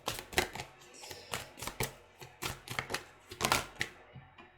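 Tarot cards being handled and shuffled produce repeated crisp, papery bursts in an uneven rhythm, close and fairly quiet, with no talking.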